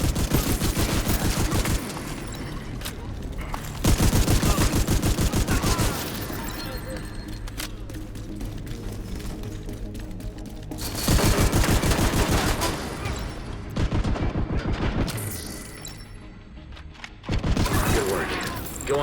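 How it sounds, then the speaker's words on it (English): Shotgun fire in The Division 2 during a solo PvE mission: heavy, loud blasts come in dense volleys and bursts separated by brief lulls, with game effects and occasional voice chatter mixed in. "I'm gonna shoot you right down here."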